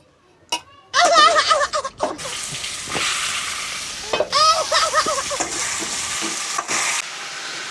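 Meat frying in a pan with onion and tomato, sizzling loudly and steadily while a spoon stirs and scrapes through it; voices talk over the cooking at intervals.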